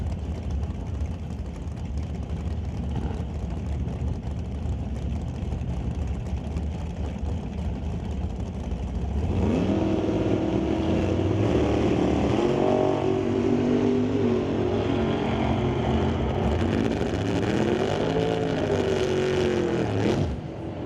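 Super Gas drag racing cars, a Corvette Roadster and a Chevy Camaro, launch at an NHRA Summit ET drag strip; a distant engine drone grows into a louder, sustained roar with rising revs midway.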